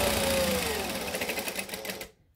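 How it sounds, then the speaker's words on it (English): A sewing machine stitches the three open edges of a zipper pocket on a shoulder bag, running in a fast steady whir that slows slightly and then stops abruptly near the end. "I'm going to stitch all 3 open edges or sides of this zipper pocket"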